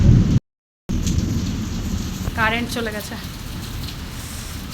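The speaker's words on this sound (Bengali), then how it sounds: "প্রচণ্ড মেঘ ডাকছে" Heavy rain pours steadily in a thunderstorm with a deep rumble of thunder, a dense close wash of sound, while a person speaks briefly over it after a short dropout.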